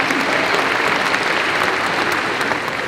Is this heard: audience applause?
yes